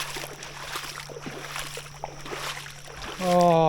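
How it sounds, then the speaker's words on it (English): Shallow water breaking over rocky shallows on a lake or river while fishing for redfin, a steady broad wash of rushing, splashing water heard nearby, with a brief motor-like hum near the end. "all the water just breaking over these shallow rocks here."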